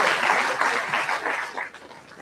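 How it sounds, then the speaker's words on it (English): An audience breaks into a round of applause after a speech at a university orientation program, a dense, steady wash of clapping that tapers slightly toward the end. "A round of applause again for Eugene and for his services."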